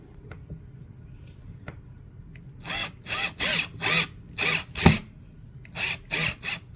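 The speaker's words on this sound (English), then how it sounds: "I'm gonna finish screwing the rest of these in" A power drill drives screws into a wooden desk: after a few seconds of quiet handling noise, it gives about eight short whirring bursts, loud and close, each with a brief pause between.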